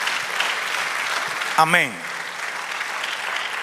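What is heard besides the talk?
congregation applauding in church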